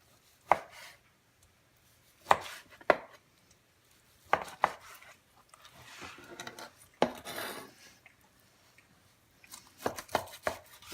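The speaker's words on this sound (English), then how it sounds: "You slice it over here." A knife slices through smoked beef brisket on a cutting board, giving sharp separate chops and scrapes in short clusters with quiet gaps between them, close and distinct, with no voices.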